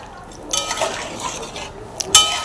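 Chicken curry with chopped coriander being stirred in a pot, with faint scraping and a few light clinks of a spoon against metal, ending in one sharper clink.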